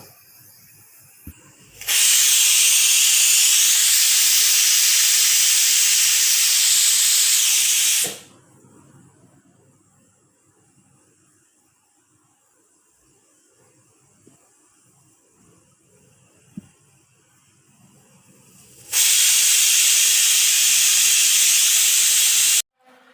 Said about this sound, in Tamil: பாருங்களேன், நமக்கு ஆவி வர தொடங்கிடுச்சுங்க. இப்போ நான் ப்ரெஷர் போட்டுக்கிறேன்.